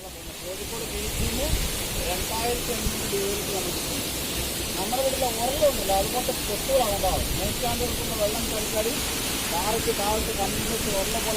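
A steady broad rush of water falling at a waterfall near Kakkayam Dam fills the air continuously, with voices talking faintly beneath the roar.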